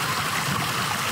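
Stream water trickling steadily, a broad continuous wash with a soft gurgle that stays even and fairly close for the whole short stretch, with no voices.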